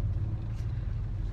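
Busy street traffic makes a steady low rumble of passing vehicles, continuous and moderately distant, with no clear voices over it.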